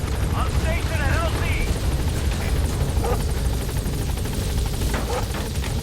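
A helicopter arrives in Metal Gear Solid V: The Phantom Pain, its rotor a steady, loud low thrum throughout, with talk and radio chatter over it.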